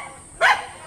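A single sharp bark from a white dog upstairs in a house, one short yelp rising out of quiet room tone, heard from slightly off.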